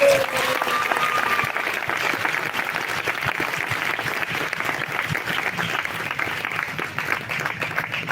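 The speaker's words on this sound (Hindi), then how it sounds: "आइए प्रभु के लिए अच्छी ताली बजाएंगे।" A congregation at a Hindi-language church service breaks into sustained, dense applause, many hands clapping loudly and evenly without stopping.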